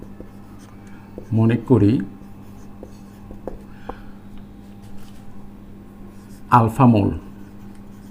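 Pen scratching on paper while writing out a chemistry problem, faint, intermittent strokes between two short bursts of someone talking.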